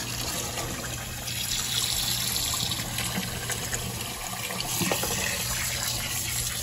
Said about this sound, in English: you take it to your sink and you shock it with cold water